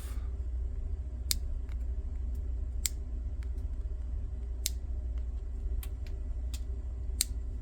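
Wire leads being snipped off components on a guitar fuzz pedal circuit board, several sharp isolated clicks spaced a second or so apart over a steady low hum, close and fairly quiet.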